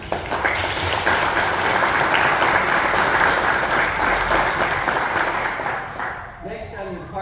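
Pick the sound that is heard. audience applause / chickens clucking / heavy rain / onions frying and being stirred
audience applause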